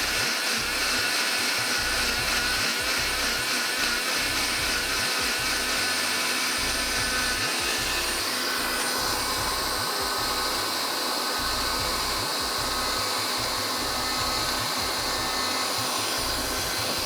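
An electric grinder runs steadily and loudly for the whole stretch, finely grinding red chutney in a home kitchen, a continuous whirring motor with a coarse churning texture and no talk over it.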